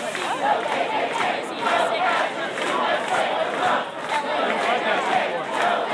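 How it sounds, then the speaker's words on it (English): Large counter-protesting crowd at a Boston free speech rally, a dense continuous roar of many voices shouting and chanting in pulsing waves, loud and enveloping from nearby. "Let's get a view here of the counter-protesting crowd"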